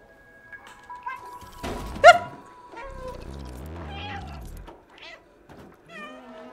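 A cat meows in a few short, tonal calls in the video game Stray, mixed with a game-like electronic chime and a brief loud thump, with gaps of quiet between.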